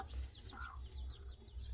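A newly hatched chicken chick chirping in a short series of high, close peeps over a low background hum.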